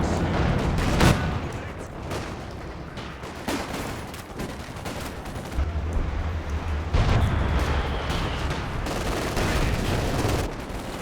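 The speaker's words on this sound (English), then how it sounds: "More Stuka rounds coming in" Stuka rocket barrage in Company of Heroes 2 during a 4v4 tournament match, a dense run of sharp blasts and booming impacts, some heavy and low, rolling on through the clip amid continuous battle noise.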